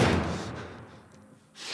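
Doors being barricaded in The Last of Us video game: a heavy thud and slam at the start that fades, then a second scraping thump near the end, fairly close.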